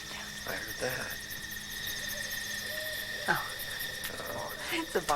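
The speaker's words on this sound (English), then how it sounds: "It's a barred owl" A barred owl hoots a few times from a distance in a wooded Oklahoma wilderness at night, faint against a steady chorus of crickets and insects.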